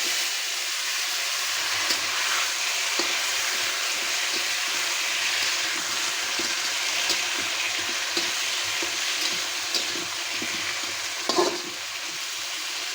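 Pineapple pieces fry in oil with sugar and chili in a pan, giving a steady, close sizzle with occasional stirring scrapes throughout.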